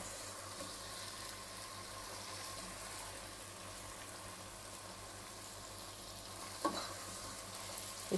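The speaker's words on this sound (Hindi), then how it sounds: "और इस तरह से इसे 1 से 2 मिनट अच्छे से फ्राई कर लेंगे।" Mutton frying in a pot for pulao gives a steady, moderate sizzle with faint bubbling and a couple of brief utensil scrapes near the end, no voices.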